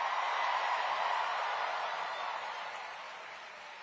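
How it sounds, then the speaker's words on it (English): Faint, steady applause from a rally crowd in New York City, a continuous wash of clapping that holds for several seconds and then slowly fades toward the end. "Can we first hear a round of applause for our incredible MC"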